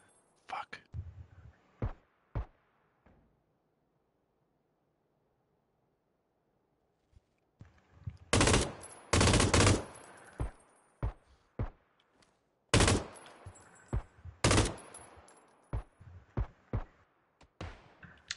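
Video game gunfire in an online shooter, sharp bursts and rapid volleys of shots scattered across a long stretch, with a quiet gap partway through, broken by occasional player talk.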